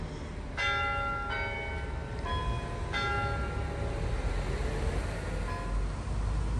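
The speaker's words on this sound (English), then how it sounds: "I'll just wait for the bells here." Church bells ring at St. Lawrence's Church, several clear, resonant strikes in the first few seconds fading into outdoor ambience with distant traffic rumble.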